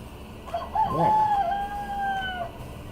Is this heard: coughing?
no